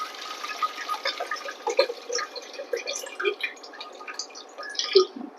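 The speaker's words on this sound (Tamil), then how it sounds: "இப்போ வந்து அரிசி களைஞ்ச கள்ளி தண்ணியை தான் ஊற்றுவோம்." Rice-washing water is poured into a clay pongal pot of boiling milk during a home Pongal festival celebration, giving a close, steady trickling and splashing of liquid with small drips, with no talk.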